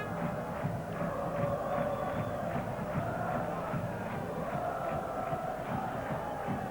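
Home fans of Rapid Bucharest in a stadium of around 12,000 at a UEFA Cup football match against Liverpool, producing a steady, distant crowd roar with scattered shouts and chanting throughout.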